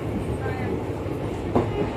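A train arriving at Dibrugarh station rumbles steadily close by, with low rolling wheel noise and a brief sharp metallic squeal partway through.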